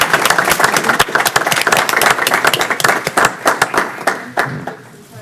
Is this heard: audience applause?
yes